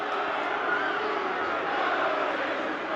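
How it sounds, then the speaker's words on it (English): Wycombe fans booing at a Wycombe v Charlton football match, a steady, distant rumble of crowd disapproval filling the stadium without a break. "The Wycombe fans booing because they want Jacobson to take the corner"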